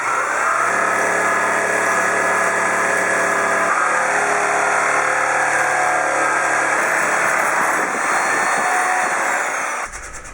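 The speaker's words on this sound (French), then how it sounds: "Je découpe avant tout le coin avant à la scie sauteuse" A jigsaw cuts the front corner and the handle opening of a wooden table-saw push stick; a loud, steady motor whine with buzzing blade noise runs throughout, shifting slightly in pitch before cutting off near the end.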